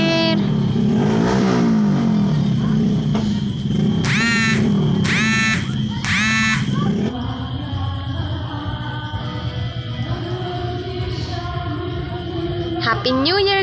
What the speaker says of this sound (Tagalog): nagparangrang na silang mga motor